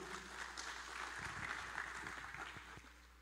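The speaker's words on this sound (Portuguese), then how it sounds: "Você pode aplaudir o Senhor Jesus?" A church congregation applauds together, a steady wash of many hands clapping that holds across the whole moment and then eases slightly, fairly soft and distant-sounding, with no talking over it.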